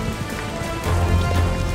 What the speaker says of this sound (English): The rain's coming from every angle.